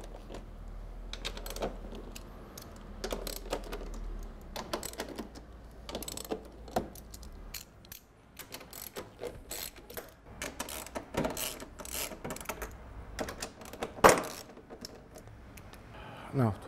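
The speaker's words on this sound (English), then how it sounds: "We have to remove those 6 screws and those" Screws and bolts being removed from the battery compartment cover of a Vectrix electric scooter: scattered metallic clicks, ratcheting and small clinks, close and intermittent, with someone talking over much of it.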